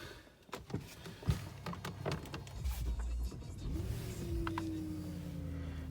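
An Audi A8 D3 FSI engine cranks with clicks and clunks after a fuel filter change, then catches and settles into a steady idle hum, heard up close.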